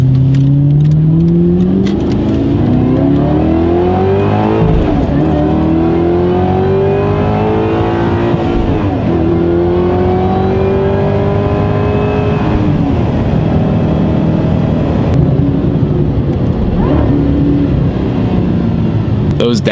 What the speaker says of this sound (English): Those downshifts make the entire thing.